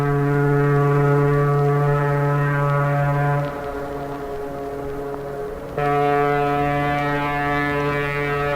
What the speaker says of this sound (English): Certainly the most spectacular of all the voices of San Francisco are the foghorns